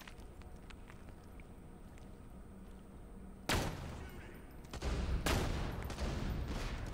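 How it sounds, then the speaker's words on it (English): Gunfire in Borderlands 2, with a shotgun in play: two loud, booming blasts a couple of seconds apart break through a quieter stretch of game noise, followed by sustained rumbling action. "Are you trying to shoot me with a snipe with a shotgun, sir?"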